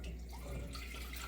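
Two cups of milk pour into a 2-quart saucepan in a short, soft, continuous trickle, heard faintly against a low background hum.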